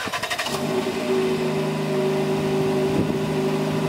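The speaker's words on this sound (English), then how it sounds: "get a little cold start for you guys" A 2020 Jeep Compass Limited cold-starts: a brief starter crank, then the engine catches and settles into a steady, fairly loud idle hum with a faint blip around the three-second mark.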